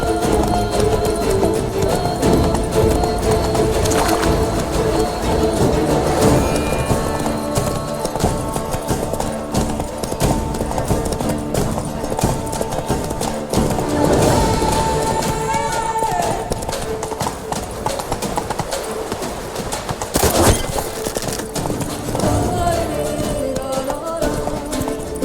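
The horse Roach gallops in The Witcher 3 video game, a steady rapid clip-clop of hooves running continuously under game music and effects, with a voice speaking over it at times.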